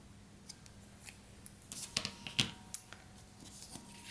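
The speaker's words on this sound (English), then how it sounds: "I'm going to take my scissors and trim up my bow a little bit here" Scissors trim loose strings off a handmade Valentine craft bow, a run of close, crisp snips clustered in the middle with softer handling rustle around them and no talking.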